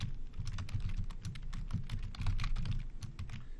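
Rapid typing on a computer keyboard, a dense run of close, crisp key clicks with slightly irregular rhythm, alone without talk.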